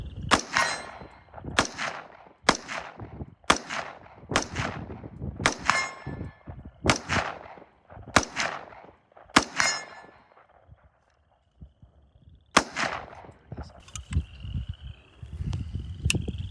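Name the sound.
AR-15 with Bear Creek upper firing 7.62x39 rounds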